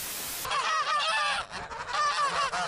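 Geese honk repeatedly and loudly close by in a loose, overlapping chorus, with no talk over the calls.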